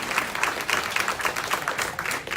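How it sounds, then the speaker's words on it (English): An audience at a vegan tech meetup panel gives a warm round of applause, many people clapping together at a steady, brisk pace, moderately close and unbroken throughout. "round of applause for Rachel and for Katie"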